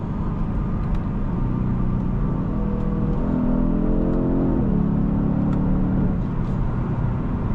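A 2026 Genesis G70 3.3T accelerates with a steady, moderate engine hum that rises in pitch through the gears, heard from inside the car under constant road noise.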